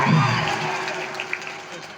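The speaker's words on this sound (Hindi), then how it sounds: "एक बार जोरदार तालियों से स्वागत कीजिए" A crowd cheering and clapping at a moderate distance, a lively mix of applause and shouts that slowly tapers.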